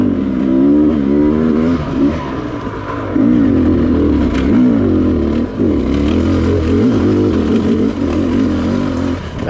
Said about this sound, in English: That was a second gear lug right there, guys, just in case you're wondering